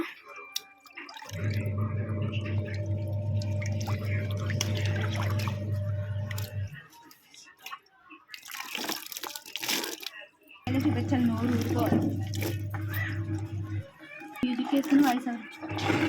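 Water runs steadily from a tap for several seconds, stops, then flows again, splashing as jujube fruits are washed, with a voice talking intermittently in between.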